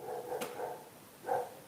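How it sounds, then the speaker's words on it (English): A dog barks at horses outdoors, giving a few separate barks: a sharp one early and another loud one near the end, with quieter bark-like sounds between them. "Why is he barking? Oh, he's barking at that horse."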